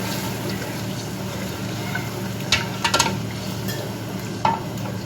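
Water goes into a pot of frying chickpea nihari masala, giving a steady close sizzle with a few short splashy bursts and clinks of stirring.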